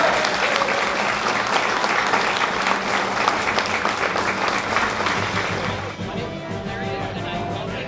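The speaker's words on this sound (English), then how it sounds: "A round of applause for Taylor." An audience claps in sustained, dense applause at a movie premiere Q&A event, loud and close, tapering slightly toward the end.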